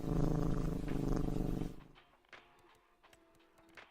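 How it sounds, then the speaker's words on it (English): A cat purrs steadily and close in the Farm Sim 25 video game, a soft continuous rumble that stops partway through, followed by faint scattered clicks and ticks. "Nothing more relaxing than listening to a cat purr."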